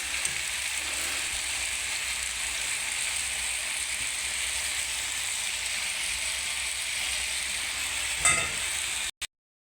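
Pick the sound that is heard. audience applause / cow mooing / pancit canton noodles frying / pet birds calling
pancit canton noodles frying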